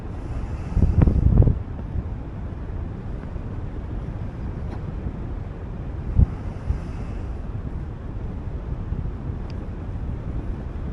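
Steady wind buffets the microphone during a light aircraft's first solo flight over El Bosque, Spain, a continuous low rushing roar with a few brief louder gusts and thumps.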